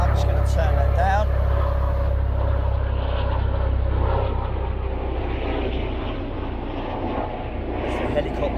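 A loud helicopter roars overhead, its rotor drone dominating and slowly fading, with brief bits of talk near the start.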